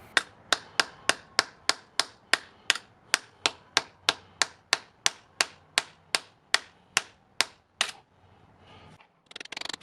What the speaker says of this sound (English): I used it for a hammer and tried to drive a nail with it.